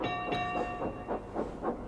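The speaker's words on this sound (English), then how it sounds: "With much puffing and wheel slip, Toby pushed Mavis and the trucks back." A toy steam engine puffs with wheel slip as it pushes a diesel and trucks back, giving steady rhythmic chuffs roughly every quarter second under a sustained whistle-like tone, moderately loud and continuous.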